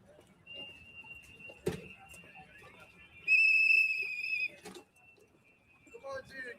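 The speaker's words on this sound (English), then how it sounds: "Uh-oh, they got their whistles out." Protesters outside a hotel blowing shrill whistles at night: a thin steady whistle tone, then a louder, denser burst of several whistles together, with scattered crowd noise and thumps around them.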